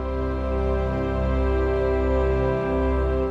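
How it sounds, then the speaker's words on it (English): A sustained orchestral chord of several notes held together, played from an online orchestra website, ringing steadily and fairly loud with no talk for about three seconds. "A chord is when you have multiple notes in music played at once."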